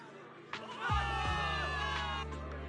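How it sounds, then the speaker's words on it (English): Crowd of soldiers cheering for victory in the video game Zenless Zone Zero, a loud sustained roar of voices swelling after a brief quieter start, with game music beneath. "Give it up for yourselves, soldiers! Cheer for victory!"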